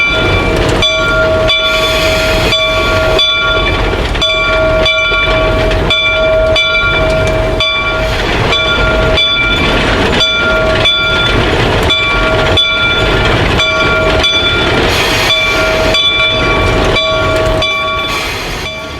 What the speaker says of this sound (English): Shay Number 11 backs into Cass Station, where passengers will board the train.